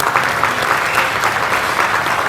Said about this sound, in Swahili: Tuwapigieni makofi mengi.